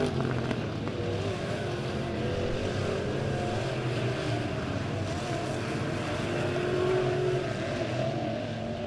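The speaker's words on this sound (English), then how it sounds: "Cheevers going to try to check out from the field as he's going to stomp on the loud pedal and move on around" A dirt track race car at Bolivar Speedway accelerates hard, its engine a loud, steady roar held at high pitch through the whole stretch with no talk over it.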